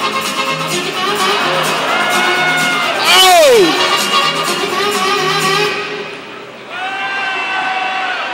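Crowd cheering and shouting at an Everblades hockey game during a musical bean bag contest, a steady roar of many voices with a brief loud swell of whoops, then easing off before rising again, with music underneath.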